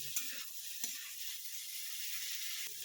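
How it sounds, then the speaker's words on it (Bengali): Shrimp frying in oil in a home kitchen, a steady soft sizzle with a few brief utensil clicks near the start and end, no talking. "এটাকে আমি লাল লাল করে ভেজে নেব।"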